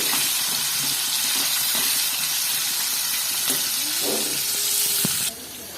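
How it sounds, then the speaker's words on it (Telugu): Bajji chillies frying in hot oil, a loud, steady sizzling hiss that fills the whole clip, with faint kitchen clinks underneath before it drops off abruptly near the end. "అవి వేగుతున్నాయి కదండి"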